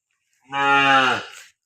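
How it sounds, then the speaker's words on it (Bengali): A single cow moos once in a Netrokona village, a loud, close, drawn-out call of about one second with a rich harmonic tone, heard alone without talk. "গরু হাম্বা হাম্বা করতেছে"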